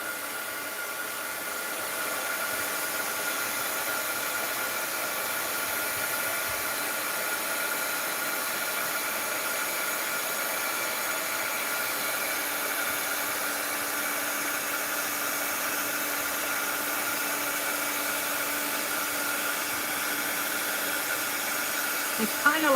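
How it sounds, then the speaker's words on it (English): A heat gun blows hot air over melting crayon wax, giving a steady, loud, unbroken whoosh that holds level for the whole stretch. "I tend to hold my heat gun like that, and all you see is the top of the heat gun"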